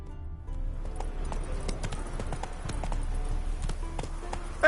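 Hoofbeats of Roach, the horse in the video game The Witcher 3: Wild Hunt, galloping in a steady, rapid clip-clop rhythm close by over a low continuous rumble, with a brief louder burst right at the end.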